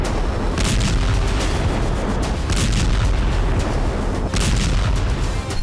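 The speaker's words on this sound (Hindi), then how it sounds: "ये मिसाइलें यूक्रेन की ओडेसा पोर्ट से दागी गईं" Missiles launched from Odesa port toward Crimea roar in a loud, continuous blast of rumbling noise, with repeated booming surges and crackling bursts throughout, no voices.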